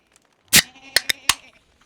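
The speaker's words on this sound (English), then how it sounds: "that's the sound of a cold Pepsi Zero" A cold Pepsi Zero can is cracked open: a sharp snap followed by a few quick clicks and a fizzy hiss, close and clear against a quiet background.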